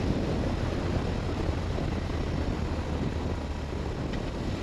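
A 2010 BMW R1200-RT motorcycle accelerates in third gear at partial throttle, its engine and wind noise forming a loud, steady, broadband roar throughout with no speech.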